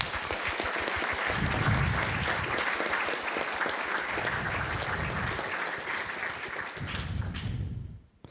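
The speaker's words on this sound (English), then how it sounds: "So please, a big round of applause for them." Sustained applause from a conference audience at an awards and closing ceremony in Sydney, many hands clapping loudly and evenly for about eight seconds before fading out at the end.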